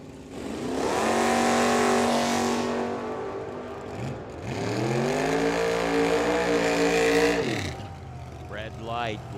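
Drag racing cars at Firebird Motorsports Park, a Camaro and a 1970 Challenger, scream in loud high-revving bursts, one long run fading before a second rises and cuts off, with a commentator talking over it.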